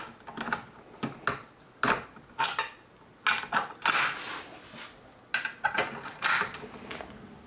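Metal parts of an AR-15 upper receiver clink and clatter as they are handled and mounted, and a torque wrench is used, giving irregular sharp knocks and rattles close by with quiet gaps in between.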